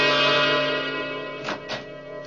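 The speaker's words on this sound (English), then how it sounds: "Doorbell." Radio drama doorbell effect: a sustained ringing chime tone with two quick louder strikes near the end, clear and close with no voices over it.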